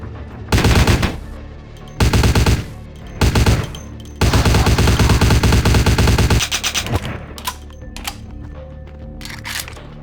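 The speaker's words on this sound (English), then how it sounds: "That sounds like a heavier pistol than what we're currently using." Heavy pistol gunfire in the video game Vampire: The Masquerade – Bloodlines, heard as loud repeated bursts of shots in several clusters, with a long sustained volley in the middle, then scattered quieter shots and clatter.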